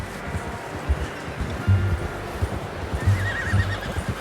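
A horse in the Red Dead Redemption 2 video game whinnies and snorts close by, its hooves clip-clopping in uneven beats over a steady outdoor ambience of wind and surf-like rushing.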